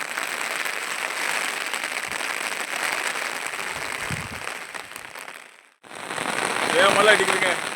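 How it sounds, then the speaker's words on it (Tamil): Heavy rain pours down at a campsite on the last day of a camping trip, a dense, steady, close hiss of drops that cuts out briefly and then returns just as strong. "மழை ஓர ஆரம்பிச்சிருச்சுங்க, பெரிய மழையா."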